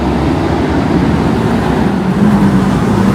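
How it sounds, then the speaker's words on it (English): Road traffic, including trucks, passes through a small North Carolina town, a continuous dense rumble of engines and tires with a low droning tone building near the end. "yeah, there's a lot of traffic here."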